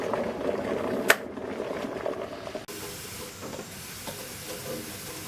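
A kettle boiling in a garage, giving a steady close steam hiss and bubbling rumble with a brief sharp click, after which the hiss carries on more evenly at a slightly lower level.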